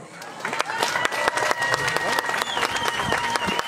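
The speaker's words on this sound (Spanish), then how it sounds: "nuestro aplauso." Guests at a golden wedding anniversary celebration in Laguna Seca, Fresnillo clap for the couple's seven children, a lively scattered round of applause from a modest crowd, close by, with voices and cheering mixed in.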